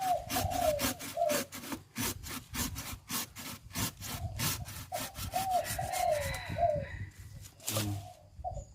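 Hand saw cutting wood in a steady back-and-forth rhythm, close and loud, with a few birds chirping faintly in the background.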